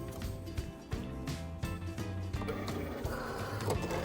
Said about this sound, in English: we will press the flashing load and unload buttons on the machine